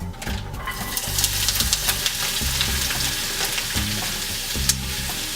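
Vegetables fry in hot olive oil in a pan with a loud, continuous sizzle, broken by rhythmic low clanks and scrapes as they are tossed and stirred.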